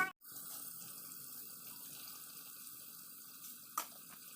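Water runs steadily into a cooking pan of ridge gourd, a continuous close pouring hiss with a sharp clink at the start and another near the end.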